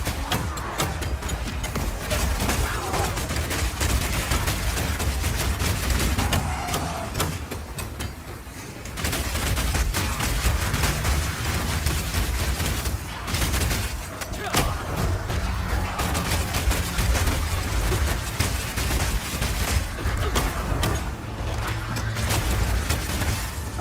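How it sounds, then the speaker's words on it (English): Explosive grenades from a crossbow detonate in Path of Exile 2, a continuous barrage of sharp blasts and booms with short lulls between volleys, under a voice talking. "Now I've been using explosive grenades here"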